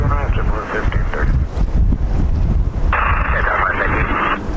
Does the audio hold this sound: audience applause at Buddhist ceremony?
no